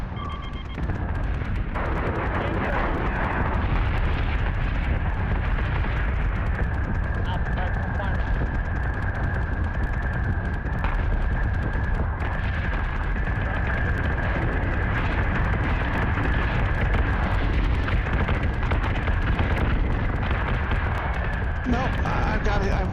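Berserk warships in a video game unleash rapid gunfire and explosions, a dense, continuous roar of shots and blasts running throughout, with someone talking over it.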